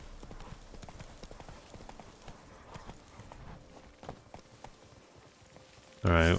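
Steady clip-clop of horse hooves from Roach in The Witcher 3: Wild Hunt, a continuous rhythmic trot up close, ending in a sudden loud burst.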